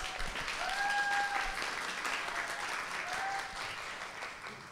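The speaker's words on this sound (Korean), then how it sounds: "우리 모두 같이 이 자리에서 방금 확인했지만 환호가 다릅니다." A live audience at a Korean political talk event applauds, sustained crowd clapping with a few whistles or cheers rising over it, fading slightly at the end.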